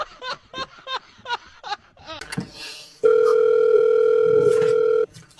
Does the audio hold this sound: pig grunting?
no